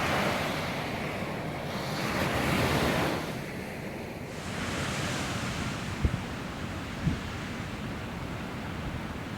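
Ocean surf washing onto the coast near Dongara, a steady broad rush of waves with wind noise on the microphone, swelling louder early on then settling into a continuous roar.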